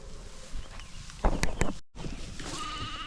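Sheep and goats bleating on a farm near the woods, a few short close bleats with light shuffling and hoof movement in the background.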